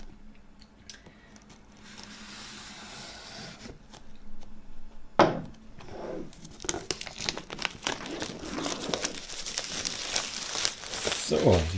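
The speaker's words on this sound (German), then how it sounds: "So, die Folie entfernen wir mal." Crinkling and tearing of plastic foil wrap being peeled off a flat vinyl box set, close and steady, growing louder and busier toward the end with no one talking.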